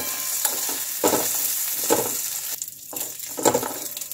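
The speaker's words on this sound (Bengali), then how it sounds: "আর দিয়ে দেব কিশমিশ আর কাজু। দিয়ে একটু ভেজে নিতে হবে।" Cashews and raisins fry in a pan for a payesh, giving a steady close sizzle with a few louder stirring scrapes and crackles spaced through the short stretch.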